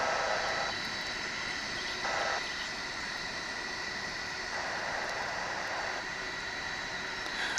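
An Airbus A320 jet airliner at DFW International Airport makes a steady, broadband engine roar that holds constant throughout, moderately loud and without speech.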